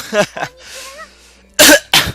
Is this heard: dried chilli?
no